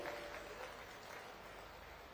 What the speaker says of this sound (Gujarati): જોરદાર તાળીઓના ગડગડાટથી માનનીય મુખ્યમંત્રીશ્રીને વધાવીએ